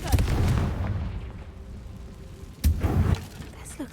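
Fire blast spell going off in Hogwarts Legacy, two heavy booming explosions with crackling debris, one at the start and a louder one near the end, separated by a quieter rumbling pause.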